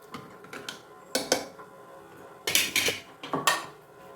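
A spoon stirs green peas curry in a pan, knocking and clanking against the metal in irregular bursts of sharp clinks with short pauses between, close and fairly clear with no talking.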